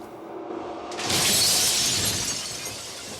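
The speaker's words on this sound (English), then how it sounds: "glass was breaking, things were being knocked over and knocked down" Glass shatters loudly in a sudden burst during a violent scuffle, with a bright crash followed by a long spray of tinkling fragments.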